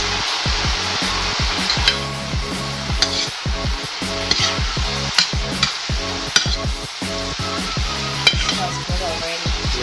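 Crispy sisig cooking in a pan, sizzling loudly and steadily up close while being stirred, with repeated scraping and clinking strokes of a utensil against the pan.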